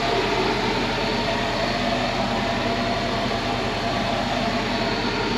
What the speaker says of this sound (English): Let her idle for a minute,